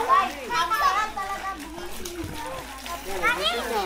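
Children jump and splash into the sea at a beach in Bohol. Bursts of splashing water mix with excited kids' shouts and chatter nearby, and adults talk over the scene.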